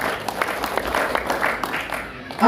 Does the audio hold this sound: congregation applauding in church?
yes